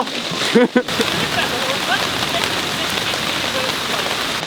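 Steady rain falls in a forest in the Carpathians, a constant dense patter on leaves and ground, with a brief voice near the start.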